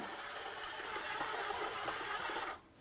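A kitchen stand mixer works a dry pastry dough with eggs, giving a steady motor hum that runs evenly and then cuts off abruptly near the end.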